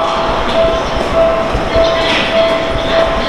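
A ten-car Seibu Railway L-train standing at a station, with a loud steady rumble of the train and platform noise, while a short repeating tone sounds at regular intervals over it.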